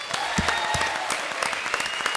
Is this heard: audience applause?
yes